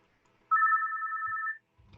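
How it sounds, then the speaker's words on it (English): A phone rings once with a steady electronic two-tone ring lasting about a second, loud and close, followed by a faint rustle. "A great time for my phone to ring"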